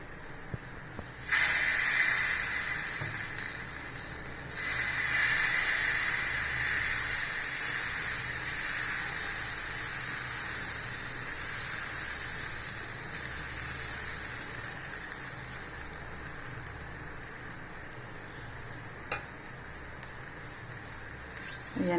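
Dosa batter poured onto a hot griddle, a loud hiss that starts abruptly and then settles into a long, steady sizzle that slowly softens.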